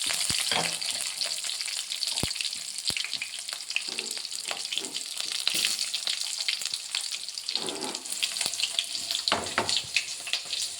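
Chopped onions fry in a hot pan for a village-style pullagura curry, giving a steady bright sizzle with occasional clicks and scrapes of stirring, close and without talk.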